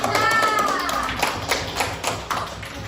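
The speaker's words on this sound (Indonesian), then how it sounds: "Tepuk tangan untuk kelompok." An audience claps for a student group after a classroom presentation: a loose burst of hand claps, loud at first and thinning out, with a brief voice in the background.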